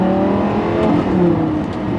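A Lamborghini Gallardo accelerating, its engine a steady, loud, close-up drone heard from inside the cabin, with no voices over it.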